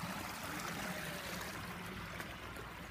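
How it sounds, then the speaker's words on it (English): Water flows steadily along a 100-foot-long lower stream at a school's outdoor pond and waterfall feature, a continuous, even trickle and wash with no pauses and no voices. "We begin with the lower stream,"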